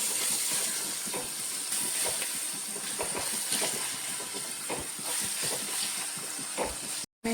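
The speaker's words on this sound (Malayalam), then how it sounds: "ഇതാണ് രണ്ട് സബോള നല്ലവണ്ണം ഒന്ന് മൂപ്പിച്ചെടുക്കണത്" Two medium onions sauté in a hot pan with a continuous sizzling hiss and scattered crackles, steady and close, then a sudden brief cut near the end.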